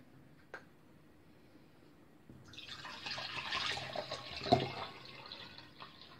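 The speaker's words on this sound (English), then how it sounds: "So I'll show you how I water my Tolumnia." Water being poured over a Tolumnia orchid, a faint drip at first, then a soft, steady trickle and splash that swells for a few seconds, with one sharper splash near the end.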